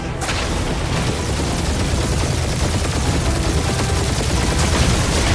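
Continuous gunfire and booming blasts in the video game Guardians of the Galaxy, a loud, dense barrage that runs without pause for the whole stretch.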